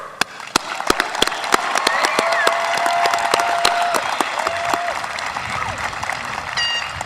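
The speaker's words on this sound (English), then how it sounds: "To all our guests, please give these students the applause they deserve." Applause for the graduating class of 2022 from assembled guests, a loud dense crowd clapping with sharp individual claps standing out, some cheering and a whistle-like tone rising above the clapping.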